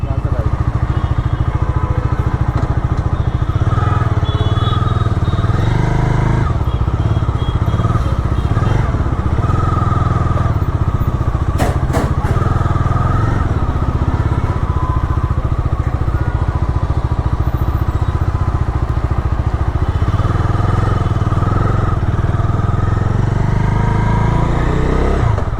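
Bajaj Dominar 250 motorcycle exhaust droning steadily while riding, a loud continuous engine rumble with throttle swells, heard close with wind and a rider's voice talking over it.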